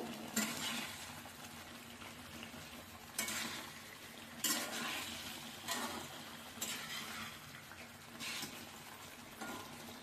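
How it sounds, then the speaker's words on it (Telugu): Chicken in a pan being stirred with ginger garlic paste, repeated scraping strokes of a spoon through the thick mixture at a steady pace, soft and close over a faint background hiss. "దీన్ని ఒకసారి మళ్ళా మనము మొత్తం కలిసే విధంగా కలుపుకుందాము"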